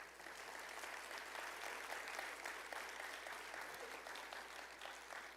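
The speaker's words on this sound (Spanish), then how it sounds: "¿Podemos dar un aplauso al Señor Jesús?" A church congregation claps together in sustained applause, a soft, even patter of many hands continuing steadily throughout.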